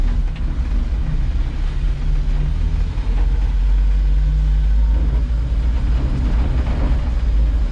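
A 1977 Datsun 620 pickup idles steadily while warming up, a low, continuous engine rumble heard up close with a slight uneven throb and no voices.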